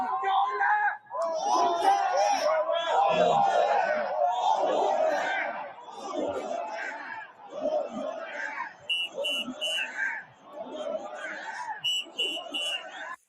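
A large political rally crowd for Peter Magyar roars and chants, loud and dense at first, then settling into pulsing waves of shouting and cheering with bursts of higher voices.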